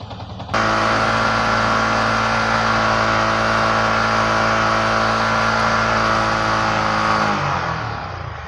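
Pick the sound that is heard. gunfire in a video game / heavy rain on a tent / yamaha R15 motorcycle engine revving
yamaha R15 motorcycle engine revving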